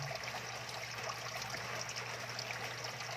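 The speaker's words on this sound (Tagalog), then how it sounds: "Kasi dami na siyang patak-tulo ng tubig." Water steadily trickles and drips into a crayfish tank with a submersible pump, a soft, continuous, faint splashing without any voices.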